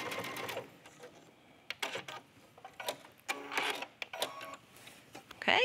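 A home sewing machine stitches a knit neckline in short bursts of fast mechanical whirring, separated by pauses, close and clear.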